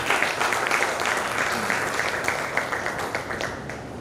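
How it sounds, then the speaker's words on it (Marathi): Audience applause for a poet at a celebration ceremony, a steady, moderately distant wash of many hands clapping that holds throughout and slowly fades slightly toward the end. "असा प्रतिभावंत कवीसाठी पुनश्च एकदा आपण टाळ्या वाजवूया"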